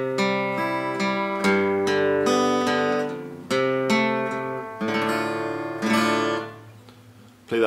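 Short guitar turnaround between verses, with a steady run of plucked notes and chords ringing close and clear, no voices.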